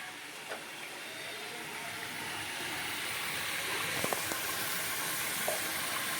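Spices and Kashmiri chili powder sautéing in oil for a Bengali spicy fish curry give off a steady, moderately loud sizzle, with a few faint scraping clicks from the spatula near the end.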